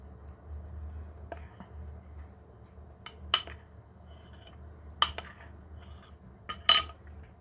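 Pukis cake batter being stirred by hand with added flour in a bowl, giving a quiet soft scraping bed broken by a few sharp utensil clinks against the bowl rim, near and otherwise calm.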